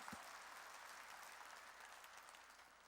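A church congregation applauds during a sermon at Jesus Central Church, a steady, even wash of clapping held at a moderate, slightly distant level for the whole stretch.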